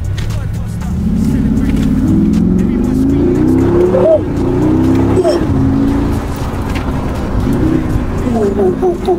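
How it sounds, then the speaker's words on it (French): A Mercedes G-Class with a 585-horsepower V8 biturbo accelerates along a straight, its deep engine roar rising and holding loud and close, with gear changes and a voice talking over it. "c'est un V8 biturbo qui développe dans les 585 chevaux en fait"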